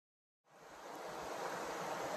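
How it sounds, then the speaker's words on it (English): Steady broadband rush of Big Wilson Stream, a river-sized stream in Maine, flowing continuously after a brief silence, loud and close with no voices. "So I've been here at Big Wilson Stream. It's a river."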